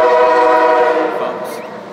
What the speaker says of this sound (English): So not just the ducks, now we have the train coming too